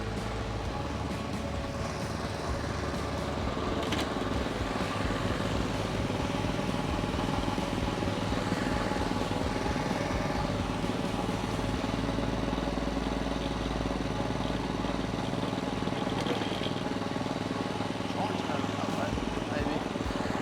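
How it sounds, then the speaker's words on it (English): An Eco 250 excavator engine runs steadily nearby while loading and dumping sand in a lawn renovation, a continuous mid-pitched diesel drone with no clear breaks. "it makes it a bit easier to have an excavator here and just load her up and throw it out"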